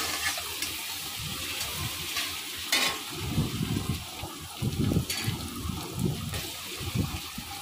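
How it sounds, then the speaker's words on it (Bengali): Onions frying with added salt are stirred in a pan, soft scraping strokes repeating over a constant low sizzle, close and moderately loud, with no speech. "লবণটা দিয়ে একটু নাড়াচাড়া করে নেব।"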